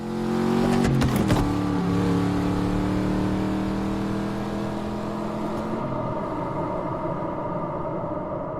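A race car engine effect from the film Ford v Ferrari plays back in a Dolby Atmos mixing room: a loud rev with shifting pitch at first, then a sustained mid-pitched engine drone that gradually fades.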